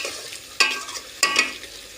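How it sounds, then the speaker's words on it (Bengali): Vegetables frying in a pan with two sharp stirring scrapes against a continuous close sizzle, each stroke followed by a louder rustling burst. "আমার সবজিটা রান্না হয়ে যাচ্ছে এখন"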